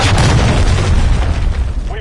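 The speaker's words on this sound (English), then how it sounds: "Hostiles launched a cruise missile." Cruise missile detonation in a first-person shooter match, a loud continuous booming rumble with heavy low-end roar and crackling debris throughout, with voice chatter mixed underneath.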